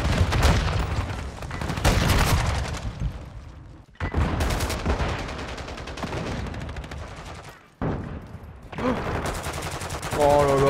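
Machine-gun fire from a camper inside a building in Call of Duty Modern Warfare 2 multiplayer, loud rapid bursts of automatic shots rattling over game noise and booms, with short breaks and a faint voice at times.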